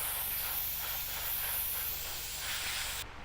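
An airbrush sprays solvent out in a continuous, close, steady hiss during cleaning, running unbroken before cutting off abruptly near the end.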